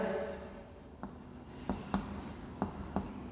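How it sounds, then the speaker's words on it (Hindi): Chalk or pen taps and scratches across a board as a sentence is written in a Sanskrit lesson, a handful of short, sharp strokes with quiet scraping between them, no talking. "अगला एक और वाक्य लिखेंगे।"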